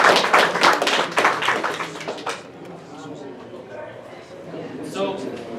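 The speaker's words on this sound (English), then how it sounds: "Give yourselves a round of applause." Brief round of clapping from a small class at a live real estate education session, dense for about two seconds and then tapering off into quiet room murmur and scattered sounds.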